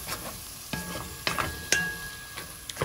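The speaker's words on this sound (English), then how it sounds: "I'm gonna go get my corn and I'm gonna dump the whole thing in it. And just stir it up." Corn being stirred into rice in a pot with Vienna sausage, a few sharp scraping strokes with a steady sizzle underneath, close and fairly clear.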